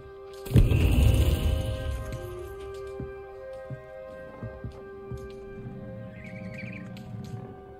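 Birdsong from a fantasy open-world game, a few faint chirps and short calls scattered over a steady ambient hum after a loud whooshing burst near the start.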